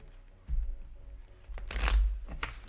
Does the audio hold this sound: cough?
no